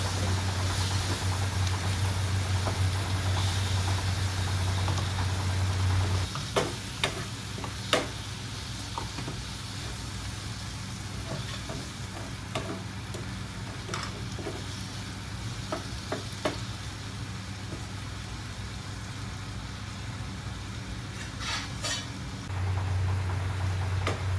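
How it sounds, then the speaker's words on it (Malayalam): Continuous frying sizzle with repeated scraping and clacking as a utensil stirs the pan, irregular strokes throughout, and a low steady hum at the start and end. "അരിഞ്ഞു വെച്ച നമ്മുടെ തക്കാളി മുഴുവനായിട്ട് അതിൽ ചേർത്ത് കൊടുത്തിട്ട് നന്നായി ഒന്ന് ഇളക്കി മിക്സ് ചെയ്യുക"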